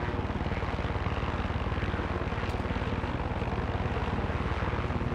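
A helicopter flies in the video game Far Cry 6. Its rotor produces a steady, rapid thudding pulse layered over a dense engine whine, holding constant and fairly close for the whole stretch.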